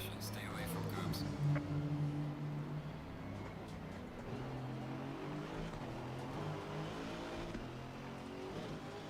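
GT4 race car engines in the Assetto Corsa Competizione racing game, a steady droning engine note rising and falling with throttle through the whole stretch, with a person talking over it.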